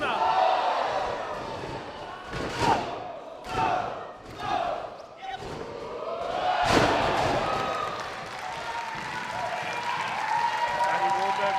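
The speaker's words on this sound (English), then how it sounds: "You can hear the respect and affection from the crowd for the quality of this match, Rose" Wrestling crowd applauds and cheers in swelling waves, punctuated by loud ring slams and thuds, with a commentator talking over the noise throughout.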